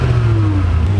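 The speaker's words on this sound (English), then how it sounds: "Let's start the engine." A Koenigsegg Agera Phoenix engine fires up into a loud, close, steady low drone with a brief descending tone, lasting only about a second.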